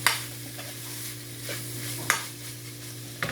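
A spoon stirs chopped Italian parsley into a pot of turkey chili with red kidney beans, a soft scraping swirl over a faint simmer and a steady low hum, broken by a couple of sharp utensil knocks against the pot; no one speaks.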